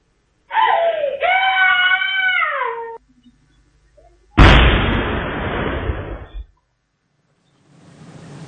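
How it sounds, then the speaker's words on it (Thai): Firecrackers set off daily by a factory near homes in Thailand: after a high wailing cry, a sudden loud bang bursts into about two seconds of dense, close crackling, then fades into quieter noise. "โอ้ยคุณผู้ชมเสียงประทัดตกใจหมด นึกว่าเสียงระเบิดค่ะ"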